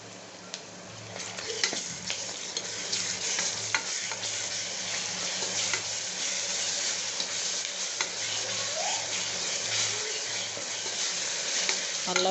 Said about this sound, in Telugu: అల్లం వెల్లుల్లి పేస్ట్ కొద్దిసేపు వేగనిద్దాం.